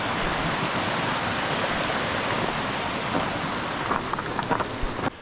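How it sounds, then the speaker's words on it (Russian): A noisy mountain river rushes through the Roztoka valley in the Tatras, its broad steady roar continuous and close, with a few faint clicks near the end. "И река, которая здесь течет, она образует тот водопад."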